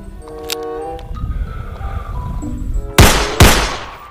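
A white and blue toy Magnum pistol fires two loud, sharp electronic gunshot bursts near the end, after a stretch of tinny synthesized tones and beeps from the toy.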